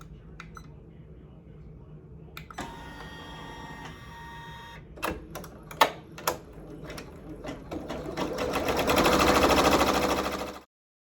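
A Janome MB7 embroidery machine starting up on a hoodie, with quiet whirs and sharp mechanical clicks before building into a loud steady rapid stitching hum that stops suddenly; faint talk is heard early on.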